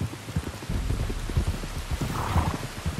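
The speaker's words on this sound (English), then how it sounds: "You were right about the damn rain." Steady rain pours down in the video game Red Dead Redemption 2, a dense wash of drops pattering on the ground, with scattered heavier splats and a low rumble beneath, constant and close with no talking.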